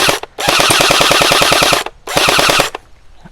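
Gelbee Stormburst Glow gel blaster firing gel ammo on full auto, two loud rapid bursts of evenly spaced mechanical shots with a short pause between them, close by and with no talking.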